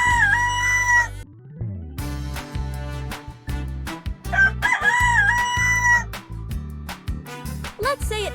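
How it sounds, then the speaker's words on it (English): A rooster crows loudly and up close, several long wavering calls repeated over a bright, steady musical backing in a children's animal-sounds lesson. "Rooster sound is crow."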